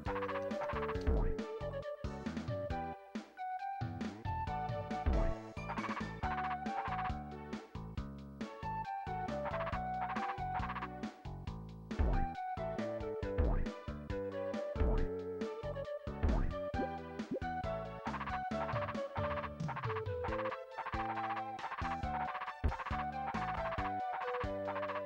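Frogs croaking in the Super Famicom game Umihara Kawase, repeated croaks mixed into busy, bouncy chiptune background music throughout.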